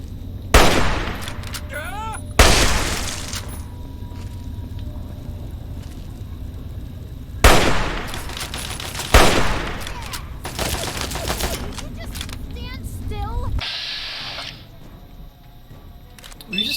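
Gunfire in Fallout 3: several sharp, loud broadband bursts of shots at irregular intervals with quieter game ambience between them and a short burst of noise near the end.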